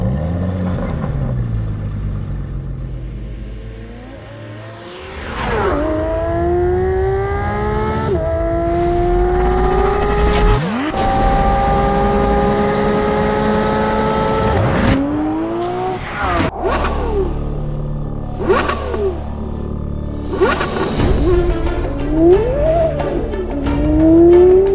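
A Porsche naturally aspirated engine revs hard and loud, rising and falling repeatedly through high-pitched sweeps with sharp blips between the climbs.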